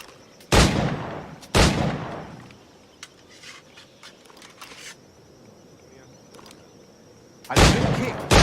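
Period firearms in the video game Assassin's Creed IV: Black Flag boom in three loud, separate shots, two close together at the start and one near the end, with quiet ambience and a faint voice between them.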